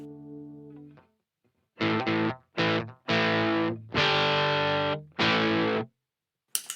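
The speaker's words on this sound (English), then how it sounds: "And then with that pedal on, distortion at 0 at minimum." An electric guitar plays through a distortion pedal set to its minimum level. A soft, fading note comes first, then a series of five or six loud, sustained, lightly gritty chords rings out after brief pauses.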